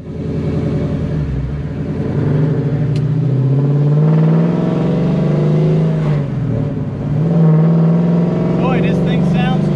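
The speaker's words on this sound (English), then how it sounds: "It's got Flowmaster racing mufflers on it." A 1969 Pontiac Firebird with a 4-speed and Flowmaster racing mufflers, its V8 engine rumbling loud and close with rising and falling revs, while voices talk over it.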